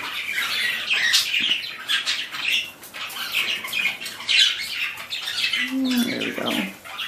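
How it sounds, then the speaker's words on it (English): Pet budgies and linnies squawking and chattering in an indoor bird room, a steady overlapping stream of harsh calls and chirps throughout, fairly close and moderately loud. "Two budgies and two linnies."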